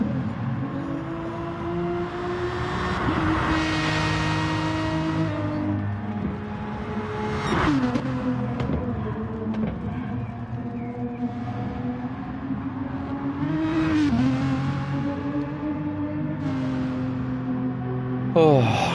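Racing cars in a Gr3 sim race at Interlagos, engines droning and revving through gear changes, with sharp shifts around eight and fourteen seconds over a steady rumble.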